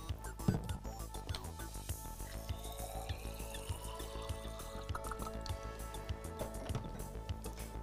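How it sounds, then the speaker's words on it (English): Distilled water is poured into a glass boiling tube holding small discs in a school biology practical, with a soft, steady trickle and filling sound running several seconds, fairly faint, with no talking. "Half fill that boiling tube with distilled water."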